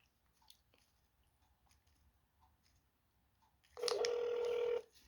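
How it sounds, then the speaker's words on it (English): Touch-tone telephone dialing of the 211 community resource number, a short burst of steady dual tones lasting under a second, clear and close after near silence. "I'm gonna be calling 211, which is a phone number for resources"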